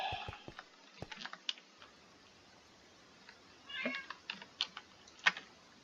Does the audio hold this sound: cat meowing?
yes